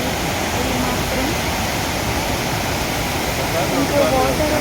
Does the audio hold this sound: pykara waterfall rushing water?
yes